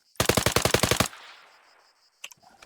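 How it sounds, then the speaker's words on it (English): A firearm is fired at a range on a military base: a rapid burst of about nine loud, close shots, then a decaying echo and a few more sharp reports. "So kind of just go ahead and burn off a few rounds."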